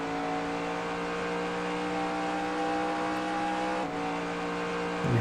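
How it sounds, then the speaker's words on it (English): Race car engine in a racing video game, holding a steady high-pitched drone on track with a brief drop near the end as a gear shifts, then a louder surge as the revs climb again. "you hear me shifting every time I pass one of those flags, letting me know which gear I'm supposed to be in"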